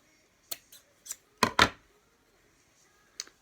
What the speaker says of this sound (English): we're just going to cut across here to chop this bit out